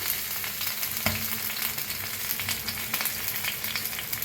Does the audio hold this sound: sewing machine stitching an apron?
no